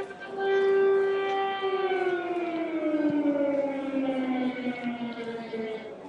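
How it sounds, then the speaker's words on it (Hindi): A wailing air raid siren in Kyiv during a Russian attack holds a loud tone, then slowly slides downward in pitch, sounding steady and prominent with some background noise. "देखिए ये एयर रेड सायरन है"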